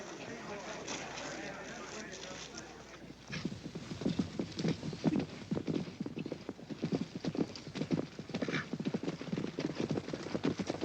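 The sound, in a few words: horses riding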